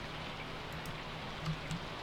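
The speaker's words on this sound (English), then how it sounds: "A warm rain is a pleasant way to get clean." Steady rain falls in a video game, a soft continuous hiss of drops on a surface with a couple of faint brighter patters, no voices.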